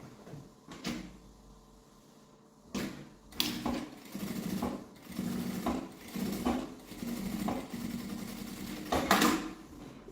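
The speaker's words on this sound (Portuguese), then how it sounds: "E vou passar a costura aqui, pode ser uma costura de meio pé de máquina" A sewing machine stitches a backpack flap in short bursts of rapid mechanical whirring, with quiet pauses and handling clicks between runs, heard close and alone.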